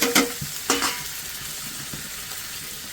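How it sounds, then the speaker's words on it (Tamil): Veldt grape (pirandai) sautéing in oil in a pan with garlic and ginger, a steady close sizzle broken by a few sharp scrapes and stirs at the start. "பிரண்டை நல்லா வதங்கணும், அப்படின்னா அரிப்பு இருக்காது."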